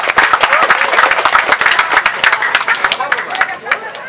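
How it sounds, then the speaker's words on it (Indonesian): Crowd applause at an anniversary event for a Kostrad unit in Purwakarta, brisk scattered claps in quick succession with people talking over it, tapering slightly toward the end. "Tepuk tangan dulu buat Grand Permata Hotel."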